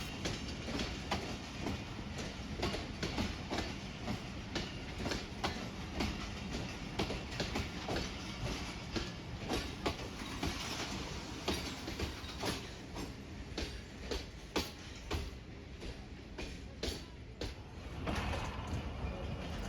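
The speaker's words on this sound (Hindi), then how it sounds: "तो ट्रेन अपने एग्जैक्ट टाइम पर वज़ीराबाद जंक्शन से डिपार्ट हो चुकी है।" Pakistan Express train running on the Wazirabad–Khanewal branch line in Punjab after leaving Wazirabad Junction, heard from inside: steady rumble with rapid clickety-clack wheel beats over rail joints and occasional rattles, fairly quiet throughout.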